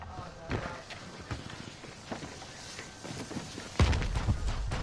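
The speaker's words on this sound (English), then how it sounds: "I hear footsteps." Footsteps in a video game, a series of soft, quick thuds mixed with game effects and scattered talk, building into a heavier burst of steps toward the end.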